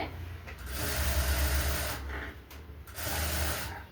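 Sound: sewing machine stitching a blouse seam

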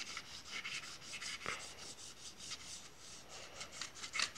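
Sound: sanding carburettor surface with sandpaper wrapped on glass

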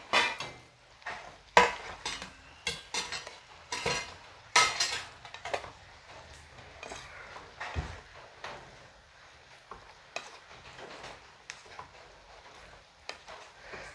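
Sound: fried chicken being stirred and mixed into simmering sauce

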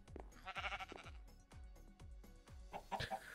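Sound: chickens clucking in a video game

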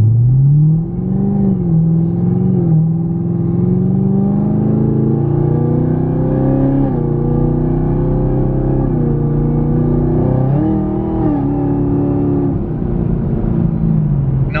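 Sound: Chevrolet Camaro ZL1 with Corsa Extreme exhaust revving and fly-by

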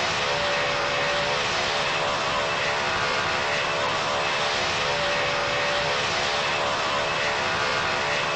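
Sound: large airplane engine in a flight video game

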